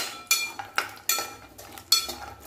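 A spoon scrapes and clinks against a kadhai as cashews are lightly dry-roasted over low heat, giving about five sharp metallic strokes in an irregular rhythm, close and fairly faint, with no voices.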